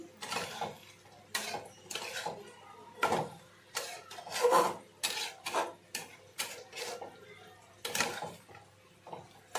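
Prawn malai curry is stirred in a pan, giving irregular sharp clinks and scrapes of a utensil against metal, close and moderately loud, with occasional faint voice in the background.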